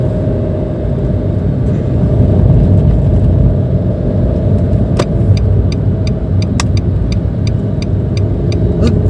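A 2014 Nissan March 1.2 L with a manual gearbox drives on an out-of-town road, its engine a steady, loud droning rumble under constant road noise, with faint rhythmic ticking inside the cabin.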